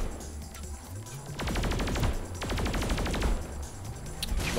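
Rapid bursts of alien laser gunfire from Saints Row 4 crackle in repeated volleys, loud and dense, over a steady background hum.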